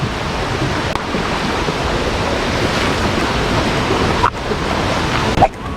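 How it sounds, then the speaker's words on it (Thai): A small stream on a mountain trail leading up to a tall waterfall gives a steady, close, full rush of flowing water with wind buffeting the microphone. "เป็นเหมือนลำธาร"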